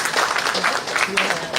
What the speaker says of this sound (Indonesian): Dan mohon tepuk tangannya sekali lagi.